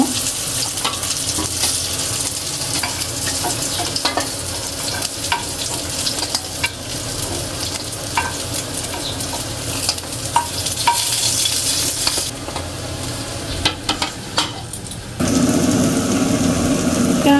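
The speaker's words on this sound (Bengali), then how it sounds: "মাছ ভাজাটি হয়ে গেছে এখন নামিয়ে নেব" Fish sizzles loudly in a hot pan with a continuous crackling hiss, broken by occasional scrapes and clatters of a utensil.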